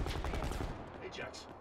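The strongest sniper rifle fires in Black Ops 4 multiplayer. A loud, dense burst of sharp gunfire cracks rings out and fades within two seconds.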